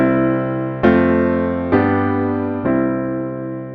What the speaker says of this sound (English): If we use chord inversions and add a bass note, it could sound like this.